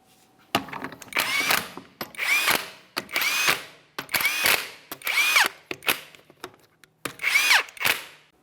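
A power impact tool spins 22mm lug nuts onto a wheel of a 2017-2024 GMC Acadia in about seven short bursts, each rising whir ending with a hard clatter. Close and loud, with brief pauses between nuts.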